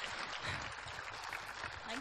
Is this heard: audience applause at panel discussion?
yes